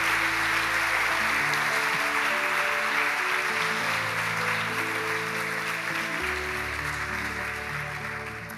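An audience at a talk session of a gathering bursts into steady, dense applause that holds loud and even, then tapers slightly toward the end, with a low sustained tone running underneath.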